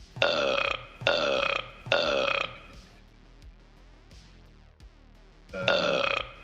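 Three loud, croaking burps come in quick succession, then a quiet gap with faint noises, then a fourth burp, all close to the mic.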